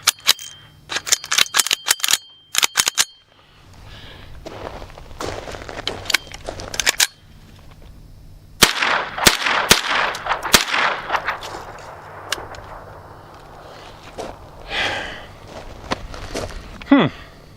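An AR pistol fitted with a CMMG .22LR conversion kit fires outdoors, a quick string of sharp cracks, then pauses and scattered single shots, interrupted by jams, near and loud.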